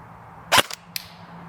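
Airsoft gun shooting 0.32-gram BBs through a chronograph gives one sharp close crack followed by a quieter second snap, with no talking.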